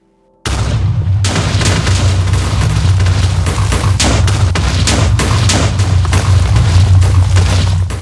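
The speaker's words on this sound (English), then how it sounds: "Should be a pretty epic explosion." A massive Minecraft TNT explosion demolishing a mountain erupts after a short silence into a continuous, dense roar of overlapping blasts and crackling booms that stays loud for several seconds.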